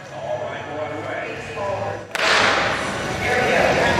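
At a women's omnium track cycling race, a starting gun cracks sharply once midway through, cutting across a commentator's voice and crowd noise that swell right after the shot.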